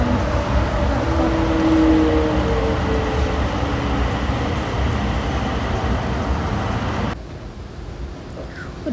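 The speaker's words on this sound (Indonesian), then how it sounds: "kencang karena kereta cepat dalam airport" A steady, loud rumble of an airport shuttle train running on rails, with a continuous droning hum heard from inside the car, easing slightly near the end.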